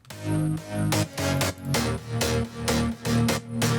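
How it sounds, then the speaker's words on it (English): Main synth bass in an electronic song drop, a thick buzzing sustained tone pulsing in short rhythmic swells, loud and continuous with no voices. "Alright, so let's move on to the bass. We have the main bass."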